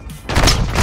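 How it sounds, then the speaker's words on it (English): Grenade blasts in a first-person shooter, a quick cluster of booming thuds and crackling detonations in under a second, loud and close, with no speech. "Got killed by like 3 grenades."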